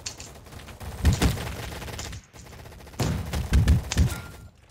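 Gunfire from an SKS rifle in a Roblox gunfight, heard as loud close bursts of rapid shots in two clusters separated by a brief pause.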